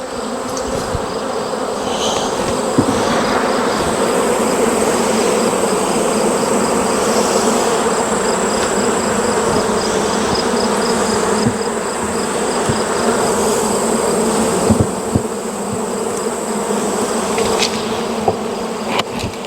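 Dense, steady buzz of many honeybees swarming around an open hive, loud and close throughout, with occasional faint knocks.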